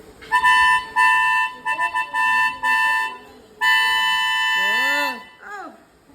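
A voice mimics a blaring lorry horn: several short honks, then a long sustained blast, ending with a few sliding vocal wails.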